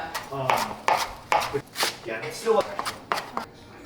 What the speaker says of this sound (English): And now we just chop up some cilantro.